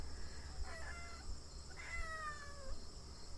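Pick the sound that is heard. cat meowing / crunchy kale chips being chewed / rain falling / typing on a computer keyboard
cat meowing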